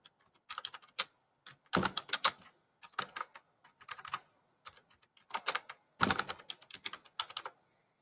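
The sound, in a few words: typing on a computer keyboard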